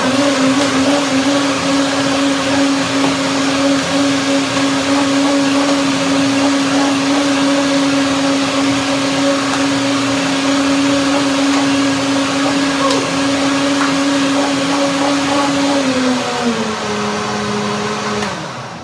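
A blender whirs loudly and steadily close by while blending pineapple and banana cream, its motor holding one pitch before dropping slightly near the end as it winds down.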